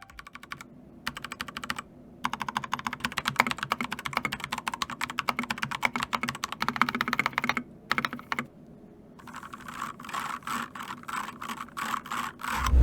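Keystrokes clatter on a Keychron K5 mechanical keyboard, fast and close, in irregular bursts of typing broken by a few short pauses, then turning into a steadier run of distinct single key presses toward the end.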